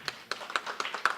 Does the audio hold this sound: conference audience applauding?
yes